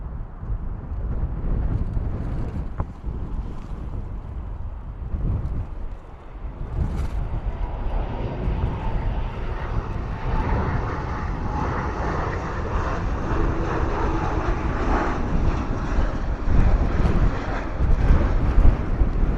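A Ryanair airliner lands heavily on its rear wheels at Bristol Airport, heard as a loud, continuous engine roar and rumble with wind buffeting the microphone, swelling steadily toward the end.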